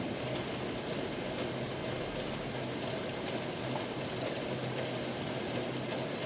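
Steady rain hisses without letup, a dense even patter close by, with no voices.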